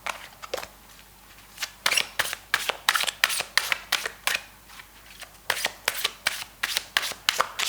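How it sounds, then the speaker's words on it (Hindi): Tarot cards being shuffled by hand, a long run of quick papery riffles and slaps in an irregular rhythm with a few brief pauses, close and fairly quiet, with no talking. "हम करते हैं आपके एंजल टैरो गाइडेंस शफल"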